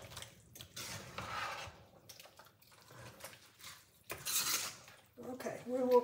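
Slimming soup in a pot is stirred with a spoon, giving soft scraping and a few light clinks against the pot, faint and close, with quiet gaps between strokes.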